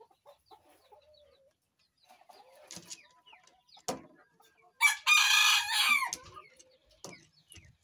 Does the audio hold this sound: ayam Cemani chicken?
yes